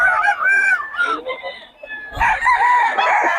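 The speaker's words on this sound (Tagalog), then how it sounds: "Puro solid na mga manok ng Boss Tony ngayon, mga idol" Gamecocks crowing at a rooster sale in the Philippines, several drawn-out crows overlapping with clucks, fairly close and loud, with someone talking in between.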